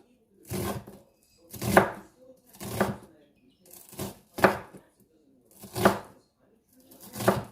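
A knife chops an onion on a board in seven evenly spaced, firm bursts of thudding strokes, each separated by a short pause, close and clear with no voice over them.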